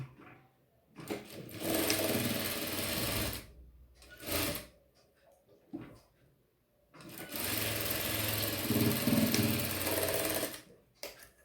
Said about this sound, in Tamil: இப்போ இந்த மாதிரி இந்த வி டைப்பை ஸ்டிச் பண்ணிடுறேன்.